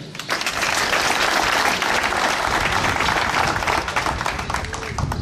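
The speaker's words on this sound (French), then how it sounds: "On peut l'applaudir." Steady applause from a crowd at a Bastille Day ceremony, loud and sustained throughout, with no pauses.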